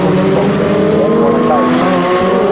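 Race cars at a Snetterton trackday championship race, including an Alpine and a Honda Integra, drone loudly and steadily with layered engine tones throughout, under a race commentator's voice.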